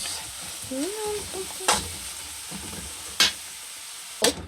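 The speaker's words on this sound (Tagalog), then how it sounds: "Igigisa lang natin siya na mabuti" Bopis sautéing in a pan gives a continuous close sizzle, broken by a few sharp utensil scrapes and clanks against the pan, with faint background voices early on.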